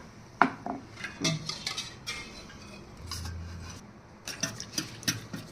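Ragi java porridge mixed with buttermilk and salt, stirred in a metal vessel: scattered scraping and light clinking strokes of a spoon against the pot, close and fairly quiet, with no voices.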